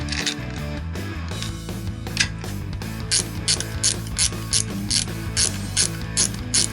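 A ratchet clicks in quick repeated bursts while snugging the water pump pulley bolts on a Renault Cléon engine, close and crisp, with brief pauses between strokes and no talk.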